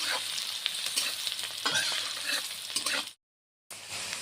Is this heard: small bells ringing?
no